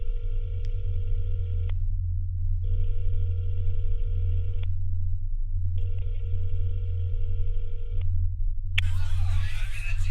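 An outgoing telephone call rings out with three long, steady ringback tones separated by short pauses over a low hum, followed by a burst of rustling noise as the line picks up.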